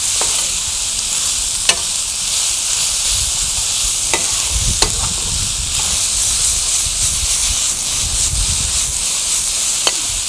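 Onions sautéing in a pan for mutton sukka give a steady, loud sizzling hiss throughout, with a few sharp utensil taps or scrapes scattered across it.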